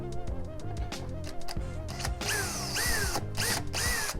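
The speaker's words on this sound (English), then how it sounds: "So I would have something to screw into when I'm trying to attach this faceplate." A cordless drill drives screws into wood strips to fix a faceplate to the upper cabinet of a 1971 VW Bus high-roof interior, close and loud, with whirring bursts that rise in pitch as each screw seats.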